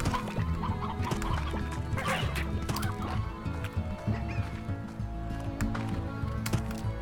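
Rooster clucks and calls in the video game Slime Rancher come as repeated short, bright bursts over busy in-game background sound, fairly close and moderately loud.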